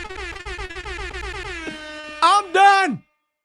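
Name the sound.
air horns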